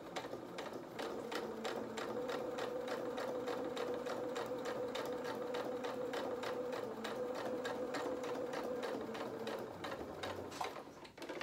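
A sewing machine stitches a small jacket for a toy rabbit in one long, even run, its rapid rhythmic chatter holding steady for about ten seconds before easing off.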